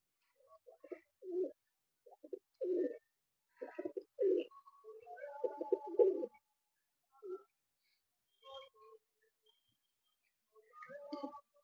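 Old pigeons on a rooftop cooing in short, near, soft bursts with gaps between them, rhythmic throaty calls repeating several times.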